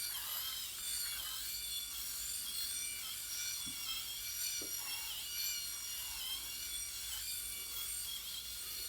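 A Skull Shaver Pitbull Platinum PX5 electric shaver hums constantly while shaving a head. The high buzzing stays steady throughout with a few faint scraping clicks, close up and with no talking.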